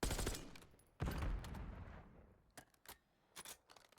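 Bursts of rapid gunfire from Call of Duty: Black Ops 6 ring out during a 2v2 esports match, with one long volley, then a fading tail and a few sharp separate shots later. No voices are heard.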